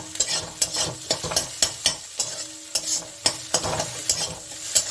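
Okra (bhindi) frying in a pan for a bhindi and egg dish, a steady sizzle broken by frequent sharp scraping strokes of a spatula, close and fairly loud with no talking.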